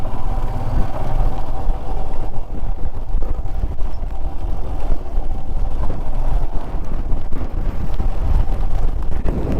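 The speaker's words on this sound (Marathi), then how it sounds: "वारं खूप इकडे" Strong monsoon wind roars across the microphone on a motorbike ride through Malshej Ghat, with a loud, constant rumbling buffet and engine drone underneath and no talking.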